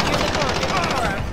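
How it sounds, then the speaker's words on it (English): Automatic gunfire from the Warzone video game rattles in a dense, loud burst, shooting at the players, filling the brief moment with rapid repeated shots. "Oh no, we're being shot at."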